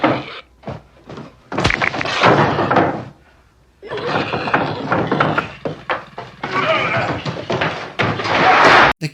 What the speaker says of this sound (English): Then the metal door shuts.